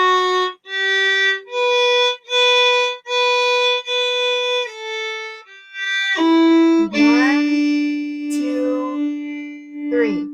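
A bowed string instrument plays a series of short separated notes from a beginner strings method book on sixteenth notes, then slides into a sustained held tone, bright and close with no talking.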